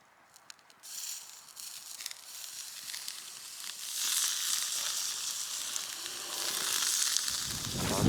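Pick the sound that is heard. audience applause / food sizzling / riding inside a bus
food sizzling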